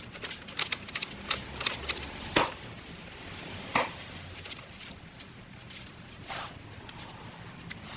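A torque wrench tightens a Ducabike front axle nut to 10 foot-pounds, giving a few sharp, close clicks and taps spread over several seconds against a quiet background.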